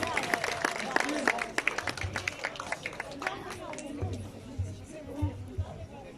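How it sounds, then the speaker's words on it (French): An audience at a talk applauds, with a burst of crisp clapping that thins out and fades into murmuring crowd chatter and low voices. "Je peux l'applaudir, s'il vous plaît."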